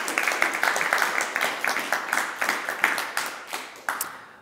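Studio audience applauding in a short burst of dense, overlapping hand claps, fairly close and steady before tapering off, with no voices over it.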